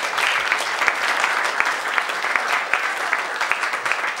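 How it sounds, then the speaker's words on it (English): Sustained applause from an audience at an anniversary celebration of a literacy organization, a steady dense wash of many hands clapping with sharper individual claps standing out throughout. "Let's give ourselves another round of applause."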